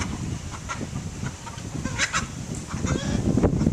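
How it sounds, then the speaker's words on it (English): A chicken clucks and squawks in agitated bursts while a watchman tries to catch it in front of a hen house, with other fowl calling nearby and scuffling movement. "Oh, he's trying to catch a chicken."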